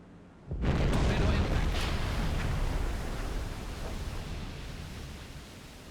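A torpedo strikes a ship in the submarine game Silent Hunter 5, a sudden loud blast at about half a second that rolls into a long, broad rumbling roar and slowly fades.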